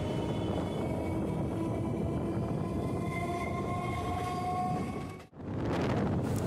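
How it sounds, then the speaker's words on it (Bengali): A goods train hauled by an old WAG-5 locomotive rumbles past loud and close at a suburban station on the Howrah–Tarakeswar line. A steady roar with tonal whine continues, then briefly dips before resuming. "সামনে থেকে আসছে পুরানো ওয়াক 5 এবং মালগাড়ির শেষে যে বগিগুলি লাগানো থাকে"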